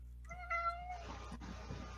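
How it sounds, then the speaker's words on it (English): A cat gives a single short meow, fairly faint against a steady low background hum, followed by soft indistinct room noise. "Oh, I hear a kitty."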